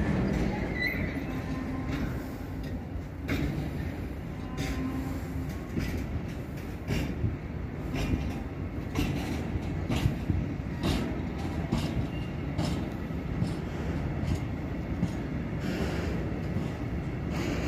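An oil freight train pulls out of Gemünden am Main station at 60 km/h, a steady, loud rolling rumble of wheels and wagons filling the whole stretch with occasional clanks and squeals above it.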